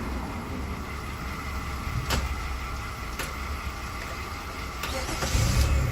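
A 2005–2009 Jeep Liberty with a 3.7 L engine and a no-crank, no-start fault makes a steady mechanical hum with a few sharp clicks, swelling louder near the end as it tries to turn over.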